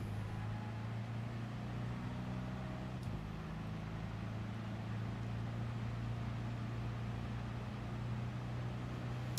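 A Volkswagen Beetle engine in GT Sport drones steadily at high revs, a constant loud buzzing roar held near the limit with no speech over it.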